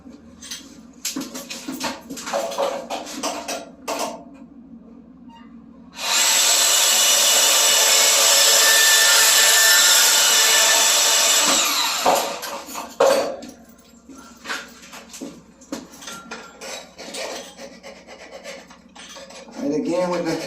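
A power tool cutting pipe during a toilet installation, a steady, bright rasping whir that holds at an even level for about six seconds, set between quieter clicks and handling noises.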